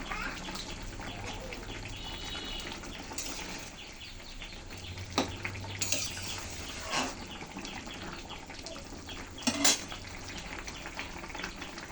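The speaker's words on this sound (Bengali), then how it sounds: "বন্ধুরা দেখুন তরকারি কত সুন্দর ফুটছে।" A vegetarian vegetable curry simmers in a pan with a steady, soft bubbling hiss, punctuated by a few brief louder pops and clatters; no one speaks.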